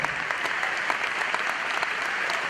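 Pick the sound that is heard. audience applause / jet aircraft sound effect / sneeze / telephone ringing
audience applause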